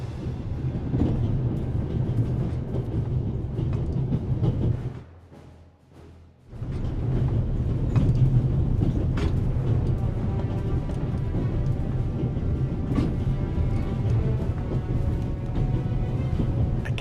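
A heavy rumbling train in the video game The Raven rolls along continuously, with a brief muffled dip midway before the loud rattling rumble resumes.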